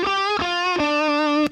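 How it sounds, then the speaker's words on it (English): Plucked electric guitar notes with no processing, about four in slow succession, ring out clean and dry with each note sustaining. "So here's our guitar without any processing on it"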